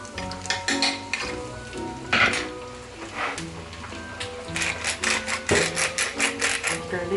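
Garlic frying in a hot pan, a light sizzle under clinking and stirring of utensils against the pan, with scattered metallic taps and a voice speaking now and then.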